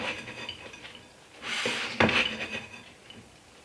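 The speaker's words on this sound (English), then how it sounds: "I'm just going to give everything a really good mix" A spoon scrapes and stirs bacon cranberry cornbread stuffing in a bowl, giving soft rubbing and clinking of utensil against dish, with brief louder scrapes midway through, close and moderately quiet.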